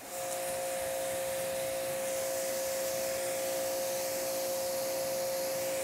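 Water spray rinses a car panel treated with a UV ceramic spray coating, a steady, moderately loud hiss of pressurized water that holds without a break, with a faint tonal hum underneath.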